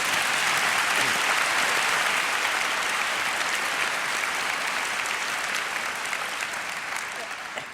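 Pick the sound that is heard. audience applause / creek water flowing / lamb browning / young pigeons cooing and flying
audience applause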